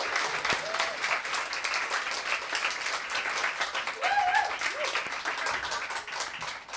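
Audience applause at an evening literary reading, steady sustained clapping from a crowd throughout, with a few faint voices and cheers mixed in.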